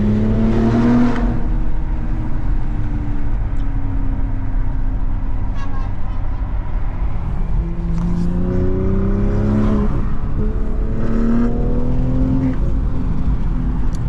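Inside an upgraded LCI BMW M340i fitted with drag radiators, the engine rises and falls in pitch as it accelerates hard under throttle, over a constant road roar, with bursts of people talking in the cabin.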